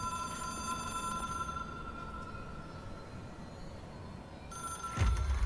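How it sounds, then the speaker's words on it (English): Electronic telephone ringing in the game Control, a steady tonal ring over low ambient hum that breaks off, then resumes with a louder thump near the end. "It is a phone."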